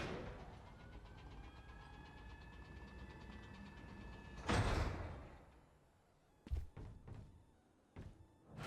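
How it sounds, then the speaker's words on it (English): A metal door in Valorant slides open after a switch is pressed, giving a loud mechanical whoosh and rumble, followed by several short sharp clunks and thuds against a steady background hum. "You can open the door."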